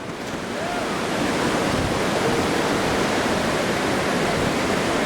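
Surf at Bojo Beach in Ghana on an afternoon, a continuous broad wash of breaking ocean waves that rises quickly and then stays steady and loud.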